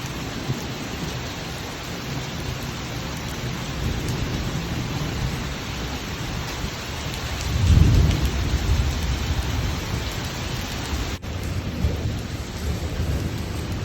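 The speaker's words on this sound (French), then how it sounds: "Avec de plus en plus d'orage et beaucoup de pluie" A thunderstorm with heavy rain drums steadily on surfaces around a small house, with a deep rumble of thunder swelling midway through under the continuous downpour; no voices.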